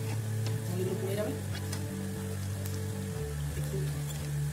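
Chana dal and potato pakoras frying in hot oil, a quiet continuous sizzle with faint clinks, under a low steady hum.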